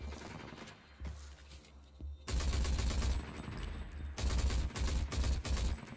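Gunfire in the video game Rage 2 arrives in dense bursts of rapid shots, with two loud sustained volleys separated by quieter scattered pops and game background noise.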